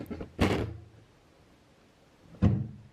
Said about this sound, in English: I knocked my camera there